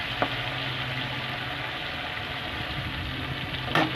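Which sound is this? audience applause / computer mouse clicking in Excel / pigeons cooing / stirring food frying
stirring food frying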